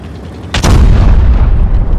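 A tank cannon fires once in World of Tanks Blitz, a sudden loud boom followed by a heavy rumbling tail that lasts to the end.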